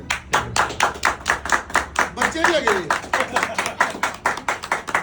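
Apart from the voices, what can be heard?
people clapping in gym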